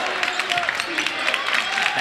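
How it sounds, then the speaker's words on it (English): Blue Jay Nation crowd at a girls basketball sectional semifinal between Culver and North Judson-San Pierre, scattered applause pattering beneath a commentator's voice for about two seconds. "Blue Jay Nation in approval. You hear them clapping."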